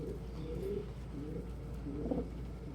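Pet birds perched on a person's shoulders softly cooing up close, low gentle coos repeating over a steady room hum, with no talking.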